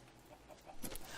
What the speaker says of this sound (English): I have amassed 7 adult chickens now